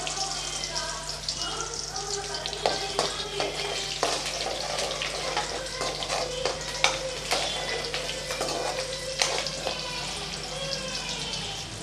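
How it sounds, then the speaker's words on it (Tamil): Steady sizzling of tomato pickle sautéing in oil with garlic and curry leaves, with scraping strokes of a stirring spoon throughout, close and continuous. "வதக்கி விட்டுக்கலாம் கொஞ்சம் கருவேப்பிலை சேர்த்துக்கலாம்"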